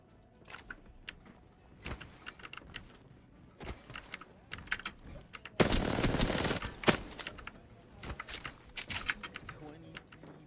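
Automatic gunfire in a video game mixes with clattering keys. Sharp scattered shots build to one dense, loud sustained burst midway, then more broken bursts follow.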